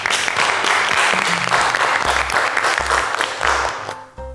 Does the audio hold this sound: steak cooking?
no